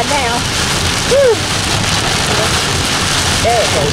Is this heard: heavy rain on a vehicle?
yes